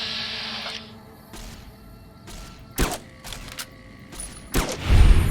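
Gunfire in the Fallout: New Vegas video game, a few sharp isolated shots spaced apart over a quiet game soundscape, ending in a heavier burst.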